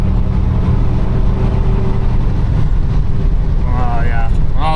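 A broken big-block square-body Chevrolet Suburban cruises down the road, its engine a loud steady low drone mixed with road and wind noise inside the cab, and a voice talks briefly near the end.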